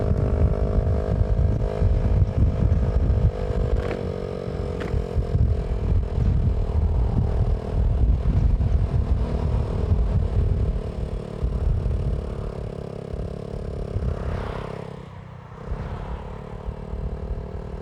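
A failing motorcycle struggling to pick up speed, its engine droning loud and close with a steady harmonic hum, rough clattering beneath, and a dip and wavering of the note near the end.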